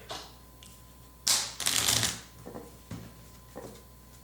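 A deck of Uno cards is shuffled nearby in a few loud bursts of riffling and slapping, with quieter card taps and handling sounds after them and no talk.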